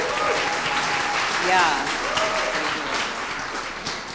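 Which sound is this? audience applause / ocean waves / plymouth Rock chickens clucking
audience applause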